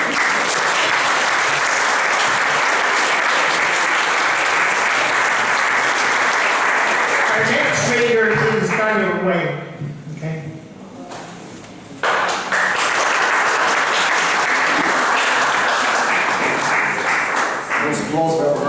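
Loud audience clapping after a poetry reading at Richmond Barracks, sustained and dense, breaking off midway for a brief spoken moment before the applause surges back and continues strongly.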